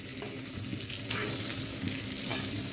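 Turmeric dropped into hot oil in a pan with a fish head, giving a continuous close frying hiss with faint stirring scrapes throughout, no one speaking.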